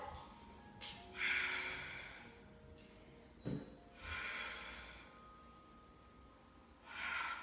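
A few soft nasal breaths and snorting exhales during a core yoga flow, faint and spaced a couple of seconds apart against a quiet room.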